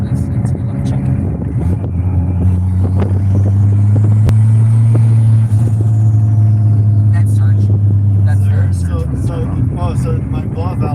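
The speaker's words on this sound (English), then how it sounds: "You can't tell if it's a blow-off or turbo flutter." Steady engine drone from a Honda D15B fitted with a turbocharger, holding a low rumble for most of the stretch before easing off near the end; a blow-off or turbo flutter may be in it but is not clearly separable from the engine noise.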